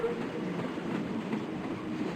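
Steady train interior ambience from the visual novel Fox Hime, a continuous rumbling hum of a moving carriage with faint rhythmic rail clatter, no voices.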